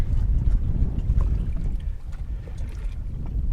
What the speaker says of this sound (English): That wind's blowing hard at our rear